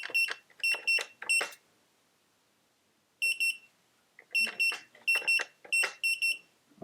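Sharp electronic beeps from a Wincent biometric gun safe keypad, close and clear: a quick run of three, a pause, a single tone, then five more evenly spaced beeps.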